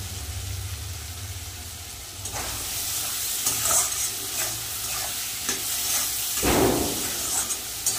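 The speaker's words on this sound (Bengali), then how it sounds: "ভালো করে মশলাটা কষিয়ে নেব।" Ground cumin, turmeric and chilli powder sizzle and fry in oil in a pan for a Gujarati-style fish curry, with a steady hiss and scraping stirring strokes close by.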